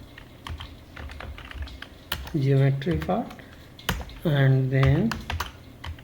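Fast clicking on a computer keyboard while writing URDF robot code, close and continuous, with someone talking over part of it.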